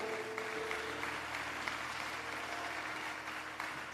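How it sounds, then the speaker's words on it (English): A church congregation at a Sunday service claps at a distance, a faint steady wash of applause over a low hum for a few seconds. "If you are clapping, do it well."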